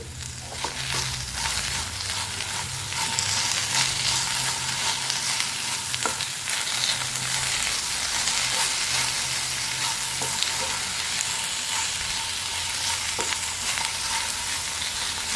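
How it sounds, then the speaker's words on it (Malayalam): Finely chopped onion frying with okra in a pan: a constant, close, hissing sizzle fills the whole stretch, with occasional light stirring scrapes and clicks and no voices. "അരിഞ്ഞു വെച്ചിരുന്ന സവാള, വളരെ നൈസായിട്ട് അരിഞ്ഞെടുത്ത സവാളയും കൂടെ ചേർത്ത് കൊടുക്കാം."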